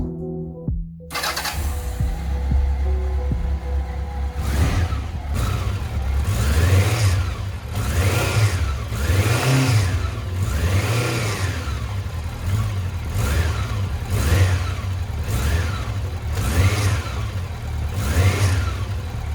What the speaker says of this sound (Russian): мотоцикл приехал с проблемой, у него посторонний шум при нажатии